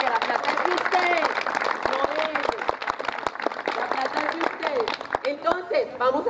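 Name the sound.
audience applause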